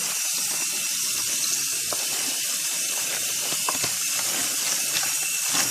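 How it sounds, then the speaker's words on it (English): Cold tap water runs steadily into a sink while chicken feet are rinsed for a Lao salad, a constant close hiss of flowing water with faint splashing and no talk. "You have to rinse it in cold water"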